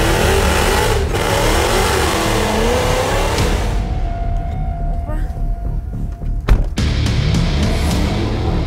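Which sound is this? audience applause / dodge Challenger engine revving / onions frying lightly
dodge Challenger engine revving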